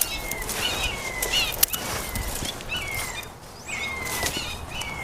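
A hawk in a garden tree beats its wings in soft, repeated rushes of flapping, joined by thin high bird calls outdoors, with one sharp snap partway through.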